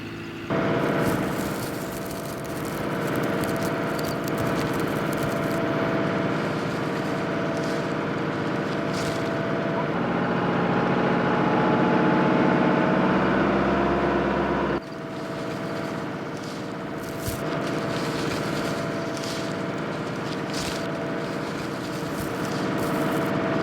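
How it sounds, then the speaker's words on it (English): A tractor crosses a vast harvested field, its engine a steady, broad rumble with a low drone that holds at a fairly constant level throughout, shifting slightly in tone partway through, with no voices. "The tractor crosses a vast harvested field."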